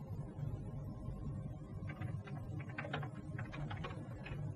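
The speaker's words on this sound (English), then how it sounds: "For our next demonstration, we'll type a business letter." Keys clatter on a Charactech KW 1 keyboard while a business letter is typed, a run of faint, irregular clicks sitting over a low background hum in the second half.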